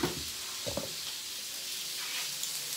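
Seasoned chicken drumsticks frying in a pan give off a steady close sizzle, with a couple of brief stirring clatters early on and a continuous hiss throughout.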